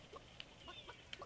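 Chicken clucks from a creature in the Realm Royale battle game, a few short, faint bird calls in quick succession.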